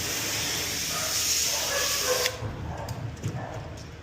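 Loud, steady hiss of water spraying while a dog is bathed at a grooming salon, cutting off abruptly partway through and leaving quieter splashes and faint handling sounds.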